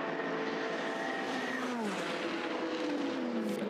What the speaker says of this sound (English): TF Sport car coming in to the pits.